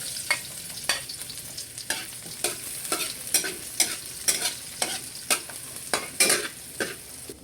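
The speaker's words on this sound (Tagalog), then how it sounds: "Lalagay ko na po yung bawang at saka po yung sibuyas." Garlic and onion frying in a pan, a steady close sizzle broken by regular scraping strokes of a spatula stirring, about two per second, with no talking.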